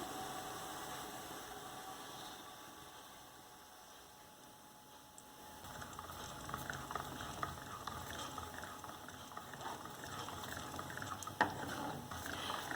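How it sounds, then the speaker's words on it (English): Sweet chilli sauce thickened with cornstarch bubbles and sizzles in a pan while being stirred, a steady close frying hiss that grows louder and busier partway through, with a single sharp clink near the end. "I will just continue to stir this to avoid lumping, and as you can see, my sauce is already getting thicker"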